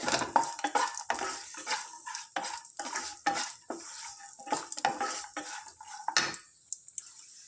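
Ingredients for sheer khurma fry on low heat until golden brown, with a spoon clattering and scraping the pan in quick, uneven strokes over a soft sizzle, close and fairly quiet.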